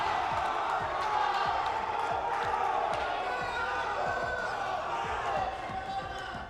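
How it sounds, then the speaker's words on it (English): Arena crowd at the Esports World Cup roaring during a Call of Duty Black Ops 6 match after first blood, a loud sustained wall of cheering with thumping impacts underneath, steady throughout and only easing slightly at the end. "listen to the crowd roar"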